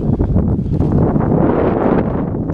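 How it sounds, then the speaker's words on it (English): Strong wind buffets an outdoor microphone, producing a loud, continuous low rumble with gusty swells and no other clear sounds. "It's going to get windy now."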